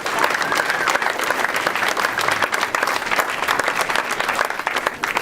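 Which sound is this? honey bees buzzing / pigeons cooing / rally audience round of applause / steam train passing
rally audience round of applause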